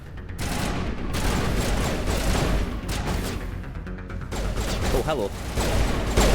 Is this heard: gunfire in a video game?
yes